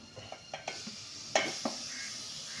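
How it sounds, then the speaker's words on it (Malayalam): Tomato goes into a sizzling pan of garlic paste and oil while egg kuruma cooks, with a steady frying hiss broken by several light clinks and stirring scrapes, the loudest burst about halfway through. "നമുക്കിനി തക്കാളി ഇടാം."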